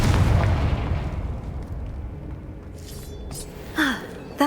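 The Confringo blasting spell in the Hogwarts Legacy video game goes off as a loud rumbling explosion that fades over a few seconds, with a couple of sharper pops and magical tones near the end.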